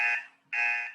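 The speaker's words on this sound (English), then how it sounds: "I will press the buzzer once" A meeting timer buzzer sounds twice, two loud harsh electronic blasts with a short gap between them, close and alone without talk.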